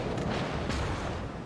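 Torpedo explosions in the naval combat game World of Warships rumble as a dense, loud, low boom that rolls on without a break.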